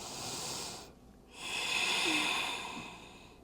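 Slow, deep yoga breaths close to the microphone, one long airy inhale, a short pause, then an extended exhale, with no talking.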